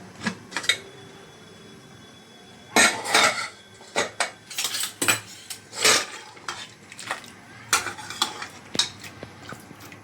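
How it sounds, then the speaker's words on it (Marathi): A pressure cooker of cooked mutton is opened, with irregular metallic clanks and clatters of lid and utensils in close bursts separated by quiet pauses. "आता आपण कुकर खोलून घेऊया।"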